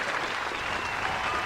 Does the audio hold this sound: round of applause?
yes